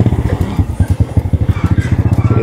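A motorcycle climbs toward Otanaha Fort in Gorontalo, its engine pulsing in a fast steady putter close to the rider, loud and rhythmic with no voices heard.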